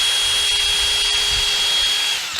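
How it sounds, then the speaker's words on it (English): A cordless drill bores pre-drilled holes into pallet wood, its motor whining at a steady high pitch for over two seconds before spinning down abruptly at the end. "pre-drill a couple of holes."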